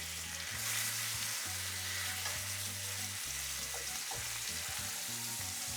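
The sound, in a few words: ossobuco meat browning in pan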